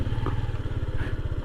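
A motorcycle engine idles close by while the bike is parked near Ellewala waterfall in Ella, Sri Lanka, a steady low rhythmic putter filling the short moment.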